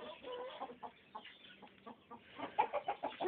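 Several chickens cluck softly and intermittently nearby in a shed, their short calls overlapping in a quiet, enclosed space.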